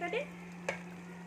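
Homemade sweets frying in hot oil in a pan give a soft, steady sizzle over a constant low hum, with one sharp clink or splash near the middle and a brief voice at the start.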